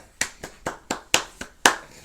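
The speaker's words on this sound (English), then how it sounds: "Round of applause." A small audience claps in a few sharp, separated hand slaps, about six claps in two seconds, close and fairly loud with no voices.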